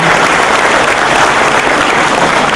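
Members at a Lions club tribute ceremony clap for themselves, a loud, dense, continuous wash of applause with no break.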